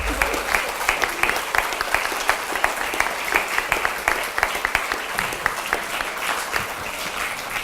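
Sustained applause from a school assembly crowd greeting the Richmond mayor, many hands clapping in a steady crackling roar with sharper individual claps standing out, moderately distant and unbroken.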